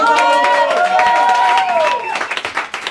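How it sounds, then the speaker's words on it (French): Audience at an improv theatre bar welcoming newly arrived guests with applause and cheering; a sustained voiced whoop rides over a dense crowd clap for about two seconds, then the clapping continues in loose, scattered bursts. "on les applaudit bien fort"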